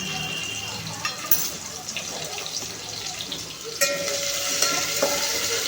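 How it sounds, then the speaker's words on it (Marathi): Crushed garlic and fenugreek seeds sautéing in hot oil for a spring onion bhaji, with a steady close sizzle and a few sharp clinks and stirs, a brief voice faintly in the background. "ह्याच्यामध्ये मेची आणि लसूण जे आपण ठेचून घेतलेलं आहे ते छानपैकी टाकून परतून घेणार आहोत व्यवस्थित"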